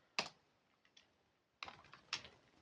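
A few isolated keystrokes on a computer keyboard while writing trading journal notes, sparse soft clicks close by in a quiet room, with no one talking.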